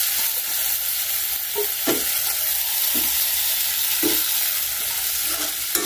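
Chopped tomato hits hot oil and spices in a pan, giving a steady close sizzle and fry with occasional stirring scrapes and clinks, no voices.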